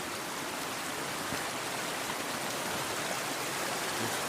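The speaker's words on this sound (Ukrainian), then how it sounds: "Вода ще гуркотить, бачите, яка велика" High, fast mountain stream in the Carpathians after heavy rain, rushing and roaring as a steady, dense wash of water noise, close and continuous with no pauses.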